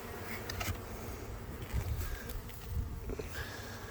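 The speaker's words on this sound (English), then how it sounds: "No suit required, because these are wild killer Africanized bees." Wild feral Africanized honey bees buzz at an open hive during a removal, a faint continuous drone with individual bees passing closer now and then.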